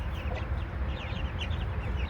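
Silkie-type chickens, including a broody hen that is half Silkie and half red, cluck steadily nearby with soft, overlapping calls and no talk.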